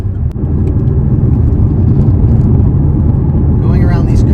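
A 2019 Porsche 718 Boxster drives a smooth, curving country road, its engine and road noise forming a loud, steady, close drone from inside the car while someone talks over it.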